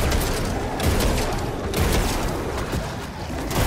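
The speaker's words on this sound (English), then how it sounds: "You'll fire a slug when you aim, and a pellet spread from the hip." Duality slug shotgun firing in Destiny 2: dense, loud, continuous blasts and booms packed closely together, filling the whole stretch with little pause.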